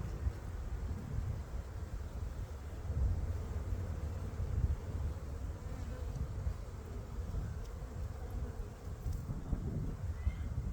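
A low, steady hum of many bees swarming close by, droning continuously with slight swells in loudness and no talking.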